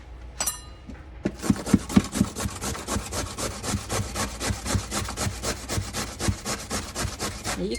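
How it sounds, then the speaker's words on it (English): Potato rasps against a small box grater in a fast, even series of close scraping strokes that keeps going without a break, with no talking. "this little box grater works great"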